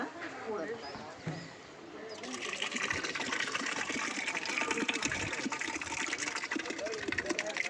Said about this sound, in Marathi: पाणी टाकायचं आता